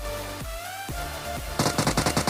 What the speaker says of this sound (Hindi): मुझे यहाँ से फायरिंग की आवाज़ आई थी।